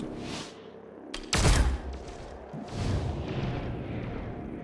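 Gunfire erupts in XCOM Chimera Squad, a sudden heavy volley of shots with a deep boom, then scattered follow-up cracks and a rumbling tail, fairly loud and close.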